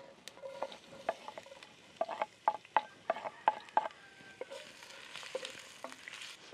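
Chopped ingredients browning in hot oil in a clay cazuela, with a steady low sizzle under a run of sharp clinks and scrapes of a utensil stirring against the pot, ending with brighter crackling.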